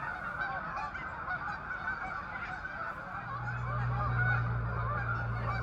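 A flock of Canada geese honks continuously at a park in Malone, New York during migration, many overlapping calls layered at mid distance, with a low rumble joining partway through.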